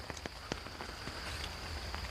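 Light rain patters steadily on an outdoor morning hike, soft scattered drops tapping close by over a constant faint hiss, with no talk.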